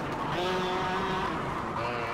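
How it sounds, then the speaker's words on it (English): A go-kart in the KartKraft racing simulator drifts through a corner, its engine droning steadily while the tires give a sustained skidding squeal throughout, close and fairly loud. "did I drift around that corner like a boss"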